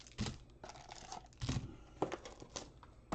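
Sealed box of football trading cards being sliced and ripped open, a handful of close, sharp tearing and crinkling bursts of cardboard and wrapper at irregular intervals, fairly quiet.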